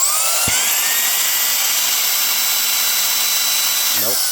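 Reikiya mini handheld cordless vacuum cleaner and air inflator whirring at a loud, steady high pitch with a constant motor whine, plus a short low thump near the start and a brief rising flutter near the end.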